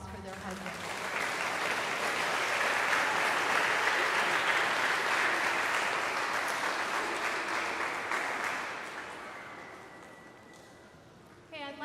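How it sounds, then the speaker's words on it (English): Parents and guests at an 8th grade recognition ceremony at St. Paul the Apostle School clap in a round of applause that swells, holds strongly, then tapers off, with a voice briefly at the start and end. "So let's show them again a round of applause for their hard work."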